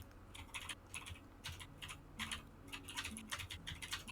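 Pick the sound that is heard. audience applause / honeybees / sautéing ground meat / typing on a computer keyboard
typing on a computer keyboard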